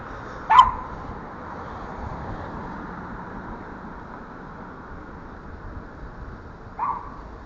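A dog on a back street in Belgrade, Serbia gives two short, distant barks several seconds apart over a low hum of traffic.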